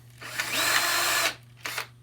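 A power drill drives a screw through the plywood base of a wooden hardware cabinet. There is one sustained whir lasting about a second, then a short second burst, close and loud over a steady low hum.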